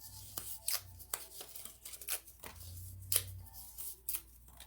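Paper raffle tickets rustle and scrape as they are shaken inside a jar at a craft table, a string of quick dry shuffling bursts, close and fairly soft.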